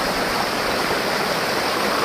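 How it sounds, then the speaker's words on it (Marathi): A monsoon-season waterfall near Katta village in Devgad roars with a constant, loud, broadband rush of falling water that masks everything else. "खाली पडते म्हणजे धबधबा तयार झालेला आहे"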